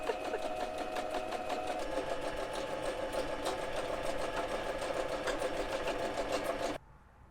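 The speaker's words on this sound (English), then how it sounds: "I see Hector's really excited about the sewing that's going on" A sewing machine stitches a single straight line in a fast, even, close-up mechanical whir with a rapid rhythmic patter, then cuts off abruptly just before the end.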